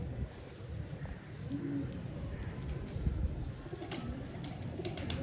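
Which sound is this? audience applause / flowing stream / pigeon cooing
pigeon cooing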